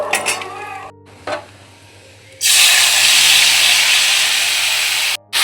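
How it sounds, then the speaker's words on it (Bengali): Cumin seeds and a dried red chilli hit hot oil for tempering. After a quiet start with a couple of light knocks, a loud, bright sizzle bursts in and continues steadily, breaking off briefly near the end. "একটু জিরে ফোড়ন দেব আর একটা শুকনো লঙ্কা দেবো।"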